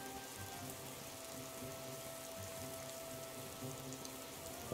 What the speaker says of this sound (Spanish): Y lo de la lluvia está mojado, me pone los nervios.